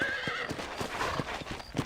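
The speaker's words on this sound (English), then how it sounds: "Calma, cavalo." A horse in Red Dead Redemption whinnies and stamps, sharp hoof clops mixing with a strained neigh over close, busy game ambience, no speech.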